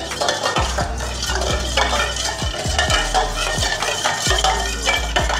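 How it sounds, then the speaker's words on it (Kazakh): A spoon stirs sugar, salt and olive oil into water in a bowl, steady scraping and clinking strokes that run continuously and close while preparing pizza dough. "Енді қант, тұз, майымыз жақсылап суға сіңу үшін міндетті түрде мұқият араластырып аламыз."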